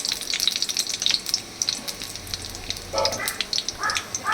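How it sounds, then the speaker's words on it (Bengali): Dry red chilli, half a bay leaf and white cumin seeds crackle in hot oil in a pan, a steady close sizzle with sharp pops and one brief louder splutter near the end. "এবার দিচ্ছি একটা শুকনো লঙ্কা, অর্ধেকটা তেজপাতা, আর দিচ্ছি কিছুটা সাদা জিরে।"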